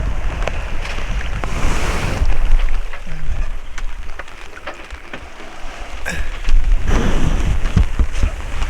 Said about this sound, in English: You can hear the rain, I suppose.